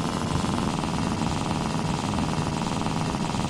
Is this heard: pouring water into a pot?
no